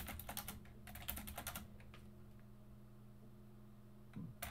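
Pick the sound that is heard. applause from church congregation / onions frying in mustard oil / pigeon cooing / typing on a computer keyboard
typing on a computer keyboard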